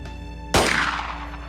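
A single pistol gunshot in the Xenonauts video game, one sharp loud crack with a short fading tail over a steady low background hum.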